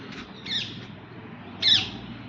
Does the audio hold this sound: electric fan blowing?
no